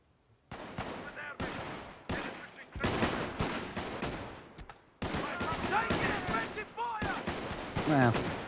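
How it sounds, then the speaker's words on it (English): Mortar and gun fire in Company of Heroes: The Great War 1918, a string of sharp, loud blasts and cracks in quick irregular bursts, with a voice speaking between and over the explosions. "those mortars are fairly accurate"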